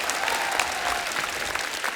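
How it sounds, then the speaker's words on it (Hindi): A studio audience on The Kapil Sharma Show claps in a dense burst of applause, steady and fairly loud for a couple of seconds. "जोरदार तालियां होनी चाहिए।"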